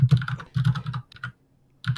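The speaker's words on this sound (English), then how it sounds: "Mute yourself when you're typing. It's loud." Loud computer keyboard typing comes in two close bursts of rapid clacking, then a pause and a short final flurry, near and alone with no talk.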